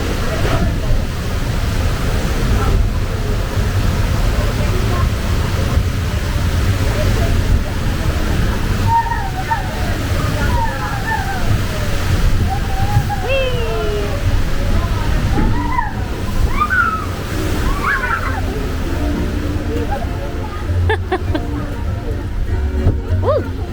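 Water rushing and sloshing on a Magic Kingdom boat ride, a steady broad wash of spray under scattered shrieks and excited riders' voices.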